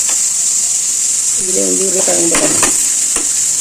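Potatoes, onions, tomatoes and garlic with masala sauté in a pan, a loud constant sizzle with scraping stirs, and a voice briefly speaks over it.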